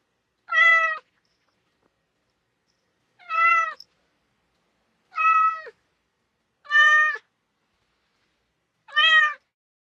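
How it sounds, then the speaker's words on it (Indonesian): A cat meows five times in clear, separate calls spaced a few seconds apart, each short and plaintive, close and alone against near silence. "Itu suara kucing."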